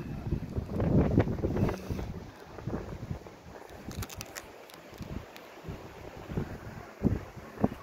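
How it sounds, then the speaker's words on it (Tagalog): Strong wind buffets the microphone in heavy gusts, loudest at the start, with a steady roar throughout and occasional sharper thumps. "Ang hangin, as in ang hangin. Grabe ang hangin."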